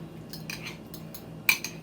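Egg and margarine mix being poured into a bowl, with light metallic clinks of a fork against the bowl and a sharper clink near the end, faint and close.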